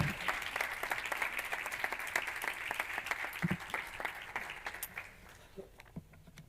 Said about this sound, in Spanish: Vamos también a darle la bienvenida con un fuerte aplauso.